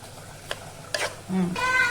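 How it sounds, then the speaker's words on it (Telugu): Carrot beetroot fry being stirred in a pan, with a few scraping strokes over a low sizzle, and a voice briefly talking near the end. "ఇప్పుడు మళ్ళీ ఒకసారి మనం కర్రీని కలుపుకోవాలి"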